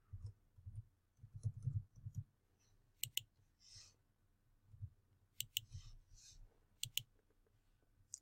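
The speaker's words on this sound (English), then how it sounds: "And again, clicking Save Group." A computer mouse clicks a button in account set-up software: a few sharp, quiet clicks spaced a second or two apart, with faint soft desk noises in between.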